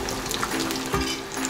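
Kabocha squash tempura fries in hot oil with a steady, close crackling sizzle and a brief louder bubbling burst partway through, with no talking.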